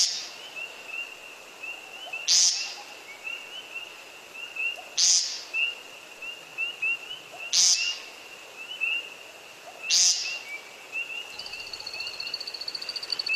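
Feather display sounds of North American birds, the American woodcock and the common snipe, made by stiff wing primaries and tail feathers: four sharp, evenly spaced bursts over a steady high whistling tone, with no talk.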